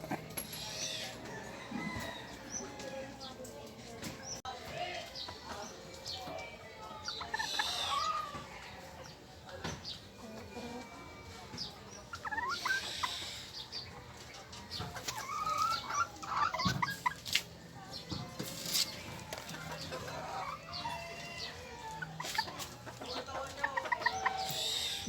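Pet bantam chickens cluck and chatter in a small backyard coop, scattered close calls with soft rustling and someone speaking now and then.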